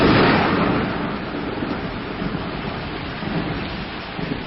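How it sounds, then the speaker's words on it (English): Heavy rain hisses steadily as a thunderstorm rolls in, a deep rumble of thunder strongest at the start and fading under the constant downpour, with no voices. "It looks like the weather is taking a turn for the worse"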